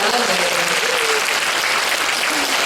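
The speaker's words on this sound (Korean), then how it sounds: "박수 부탁드리겠습니다" A concert hall audience at a 2017 Korean school-themed talk concert applauds in a sustained, even wash of clapping, with faint voices underneath.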